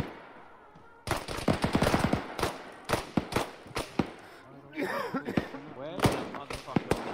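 Heavy automatic and rifle fire in a military realism game squad patrol, dense bursts of close sharp cracks over several seconds, with voices talking and shouting over radio among the shots.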